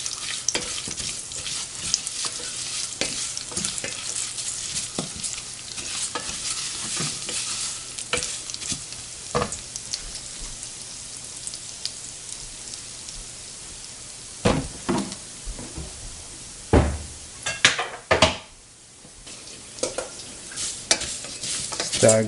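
Vermicelli fries and sizzles in vegetable oil in a pan, a steady bright crackle broken by stirring scrapes and a few sharper clatters, with no voices.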